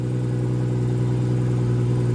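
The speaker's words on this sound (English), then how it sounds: "what you're hearing there is a 3-liter inline 6-cylinder engine" A 2017 BMW 440i's turbocharged 3.0-liter inline six idles steadily, a smooth, even low hum close by with no revving and no voices.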